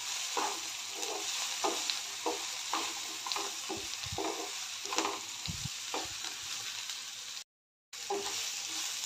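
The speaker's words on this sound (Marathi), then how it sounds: "अर्धा चमचा हळद सर्व मिक्स करून परतून घेते" Vegetables with turmeric stirred and sautéing in a pan while making ghosavala (ridge gourd) bhaji: a steady sizzle with repeated scraping strokes of a spoon, close and continuous, with a brief dropout near the end.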